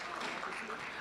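An audience at a health summit claps for a door prize winner, a brief steady patter of many hands filling the room.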